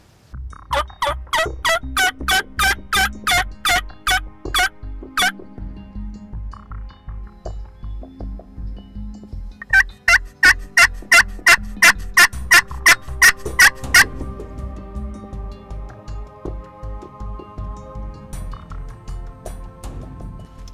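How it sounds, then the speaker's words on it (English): A wild turkey gobbler gobbles loudly and close by during a spring turkey hunt, in repeated rattling bursts that come in two clusters separated by a pause, with no talk. "we're going to stay put and let this gobbler do his thing"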